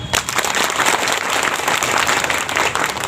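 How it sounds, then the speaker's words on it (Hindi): A crowd claps steadily, dense and continuous applause filling the whole stretch, fairly close and loud. "लोग ताली बजाइए।"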